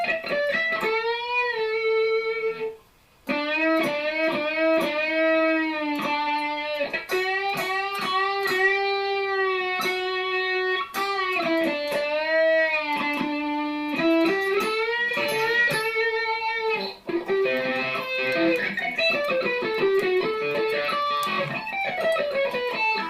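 Electric guitar plays a song's solo, with sustained, singing notes and repeated string bends that swoop up in pitch, heard alone and continuously at a strong, steady level.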